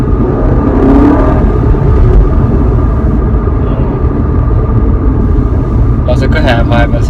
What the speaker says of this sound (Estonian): kui auto teeb häält, siis